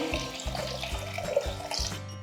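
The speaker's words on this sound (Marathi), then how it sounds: "आता ह्याच्यामध्ये पाणी घालायचे" Water pours steadily into a pot of soaked rice for Gujarati khichdi, a continuous close splashing rush with no talk.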